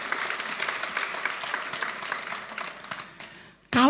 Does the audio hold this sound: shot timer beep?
no